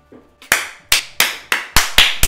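A single person clapping slowly and deliberately, about six sharp, loud, close claps at an even rhythm, each ringing out briefly before the next.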